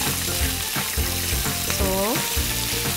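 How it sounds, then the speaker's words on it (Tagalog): Steak fat sizzling in a hot pan, a dense close crackle with faint rhythmic tonal sounds in the background. "Sounds every time nagluluto tayo ng steak kasi alam natin naluluto na yung taba."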